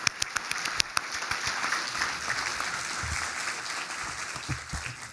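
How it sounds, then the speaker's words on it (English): A steady round of applause fills a hall at a medical school scholarship brunch, with a few sharp individual claps at the start before the crowd settles into even clapping. "I would really appreciate if everybody could give her a round of applause"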